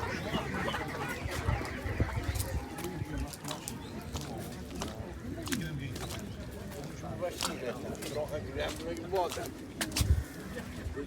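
Red laying hens cluck and chatter at an outdoor livestock market in Wysokie Mazowieckie, with irregular bird calls scattered under near, continuous conversation.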